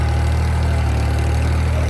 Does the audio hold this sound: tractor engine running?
yes